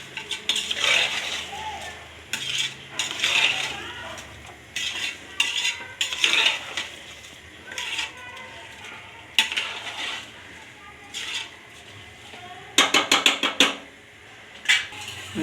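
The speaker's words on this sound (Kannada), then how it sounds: "ನೋಡಿ ಅಕ್ಕಿ ಆಗಿದೆ, ಹಂಗೆ ತಿರುಗಿಸ್ಕೊಡ್ಬೇಕು" A spoon stirs rice in a pot for veg pulao, with repeated scraping and clinking strokes against the metal over a faint sizzle, arriving in uneven bursts with short pauses between them.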